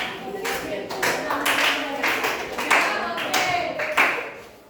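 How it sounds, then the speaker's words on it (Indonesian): Hands clapping in applause from a classroom group during a training session, a steady close burst of claps lasting several seconds. "berikan aplaus pada"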